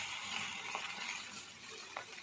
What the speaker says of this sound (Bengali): গাজর, ক্যাপসিকাম আর বিনস কিছুটা কুচি কুচি করে কেটে নিয়েছি, তারপর সাদা তেলে ভেজে নেব